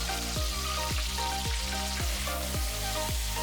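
Chorizo, about 200 grams, frying in a pan while prawn and chorizo pasta is made, with a steady close sizzle. Repeated low stirring sweeps come at a regular half-second rhythm, and no one speaks.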